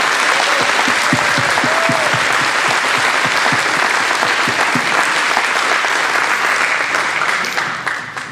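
Audience at an 8th grade promotion ceremony applauding steadily, a dense, loud wash of clapping that holds for several seconds and then starts to fade.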